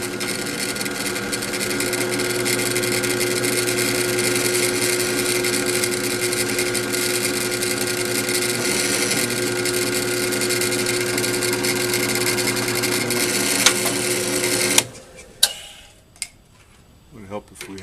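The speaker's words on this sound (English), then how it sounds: "I'm going to start with a center drill here." A drill press runs a center drill into a pin clamped to an angle plate. The motor gives a steady tonal whine with a faint ticking rhythm, then cuts off near the end, leaving a few clanks and some talking.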